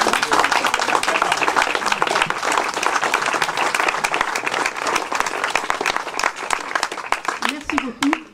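Audience applause at a tribute event, following a tribute speech: dense, sustained clapping from a large crowd, loud and steady throughout, thinning slightly toward the end.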